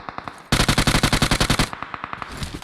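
M4 rifle fire in the mobile shooter PUBG Mobile: a few quieter distant shots, then a loud rapid automatic burst of about a dozen evenly spaced cracks, followed by fainter scattered shots trailing off.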